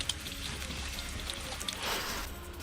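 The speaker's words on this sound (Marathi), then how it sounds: "नांदेडमध्ये अवकाळी पावसाने जोरदार हजेरी लावली आहे" Heavy unseasonal rain driven by storm winds falls over farmland in Nanded, a steady, fairly faint wash of hiss with a brief surge of heavier pattering near the end.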